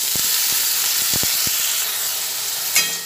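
Onion paste frying in oil with garlic and whole garam masala gives a steady, close sizzle and hiss, with a few sharp clicks of stirring early on.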